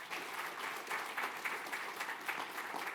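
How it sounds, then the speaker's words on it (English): Conference audience at a DON IT Spectrum Summit applauding IT staff, a dense round of clapping with slightly pulsing swells. "And just give a round of applause for the IT folks."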